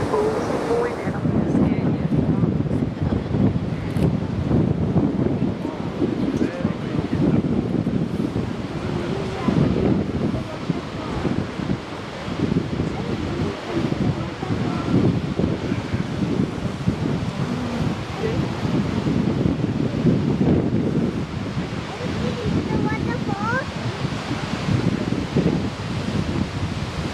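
A temporary waterfall in Australia pours down from high above, heard from directly beneath as a steady, dense roar with buffeting wind noise, continuous and loud throughout.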